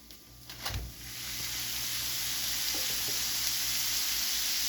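One pound of 80/20 ground beef with avocado oil hits a hot Steelmade griddle, a brief clatter then a steady, broad sizzle that swells and holds loud and close to the end.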